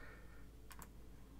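Two quick computer keyboard key presses, one right after the other, clear and close, tapped during a video game against a faint steady background hum.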